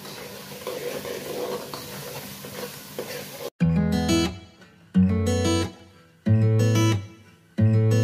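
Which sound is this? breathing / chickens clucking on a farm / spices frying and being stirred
spices frying and being stirred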